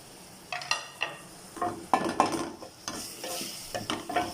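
Green chillies frying in a pan for a white bean curry, with a soft continuous sizzle broken by repeated close scraping and clinking strokes of a stirring spoon.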